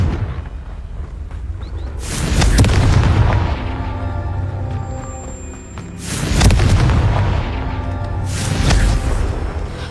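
Two heavy booming blasts from the Confringo fire spell in a video game, each a loud deep burst that rolls off into a long rumbling tail, spaced a few seconds apart with no talk.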